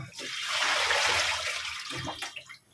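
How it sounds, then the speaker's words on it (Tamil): Crabs being rinsed and washed in water in a home kitchen, giving a steady splashing, sloshing wash that swells through the middle and fades with a few clatters near the end; faint voices sit in the background. "நண்டு அலசி வச்சிட்டிங்களா?"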